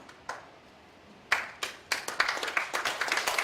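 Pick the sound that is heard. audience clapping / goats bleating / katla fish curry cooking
audience clapping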